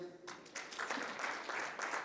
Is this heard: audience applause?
yes